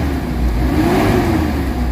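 A Mitsubishi Adventure engine, treated with XADO after a throttle delay and low power fault, revs up and holds a loud, close mid-pitched whir that swells and eases over two seconds, no talk.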